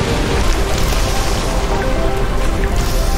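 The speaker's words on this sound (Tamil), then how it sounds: "இதுதான் தண்ணி வந்துடுச்சு." Water rushes in through a damaged area in the video game I Am Fish, a dense, steady roar of flowing, splashing water that holds at constant loudness throughout.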